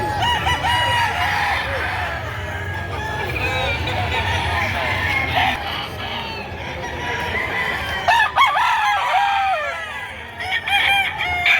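Chickens cluck continuously while a rooster crows loudly nearby at a poultry sale in Padre Garcia, Batangas, with people talking over the birds throughout.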